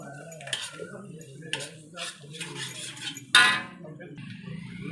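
A metal spoon clinks and scrapes against a pan while chili powder is stirred into a cooking mixture, giving a few sharp taps and one louder clatter, with a voice talking underneath.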